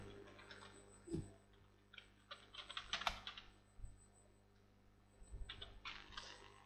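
Computer keyboard keys tapped in bursts while entering text in MS Word, a quiet, close string of irregular clicks with pauses between groups of keystrokes.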